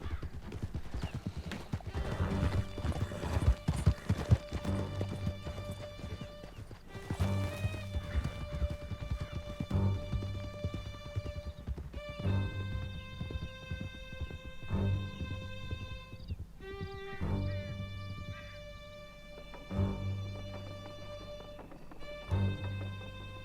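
Horses galloping in the video game Red Dead Redemption 2, with steady hoofbeats, a whinny and a layered game music score running loud and continuous for the whole stretch.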